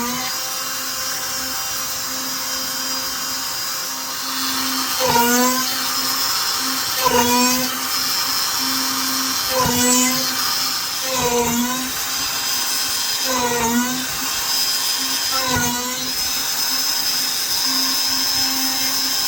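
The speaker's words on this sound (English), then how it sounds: "Let's drill the holes and start sewing, hopefully. I've got my Dremel drill and I just got to get it set up quickly." A Dremel rotary drill whines steadily as it bores holes in leather for a sheath, its pitch dipping in about six repeated bursts as each hole is cut, loud and close with no talk.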